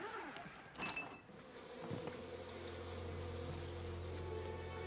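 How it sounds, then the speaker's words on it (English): Buzzing bees and wasps as an audio drama effect: a steady insect drone with a brief louder swell near the start, settling into a constant low hum. "Bees and wasps. Wasps and bees."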